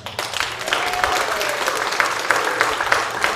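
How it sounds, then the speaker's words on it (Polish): An audience at a poetry book launch breaks into applause, a dense patter of clapping hands that swells quickly and carries on steadily. "Myślę, że Wielkie brawa dla Janusza."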